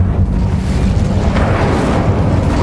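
A fire spell blast in the game Hogwarts Legacy: a loud, sustained rumbling roar of flame that holds steady for several seconds.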